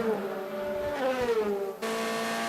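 Onboard a BMW DTM race car on the Moscow circuit in 2014, the engine drones loud and steady, its pitch dipping and rising through gear changes before an abrupt shift to a higher, harsher note.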